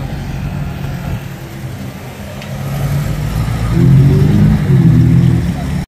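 A Porsche GT3 RS supercar drives past in Monaco during Top Marques 2022. A low engine rumble builds into a louder, rising growl near the end, with faint background voices.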